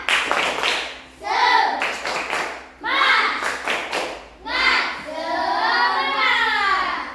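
A classroom of children does the rhythmic tepuk semangat clapping chant, with bursts of sharp patterned claps alternating with loud chanted young voices, all close and repeated in three waves.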